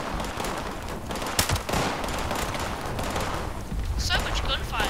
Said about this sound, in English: So much gunfire from explosions over there.